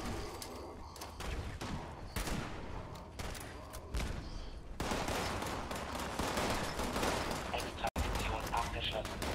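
Dense gunfire and grenade blasts in Fallout 76 combat against super mutants, rapid bursts of shots and booming explosions piling up continuously, loud and close, with a brief cutout near the end.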